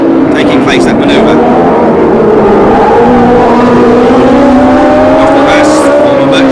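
Formula One race cars at the Long Beach Grand Prix street circuit howl past with rising and falling engine notes near a hairpin, loud and close, with a commentator talking over them.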